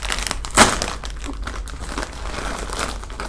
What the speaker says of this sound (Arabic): ودلوقتي هنفتح الكيس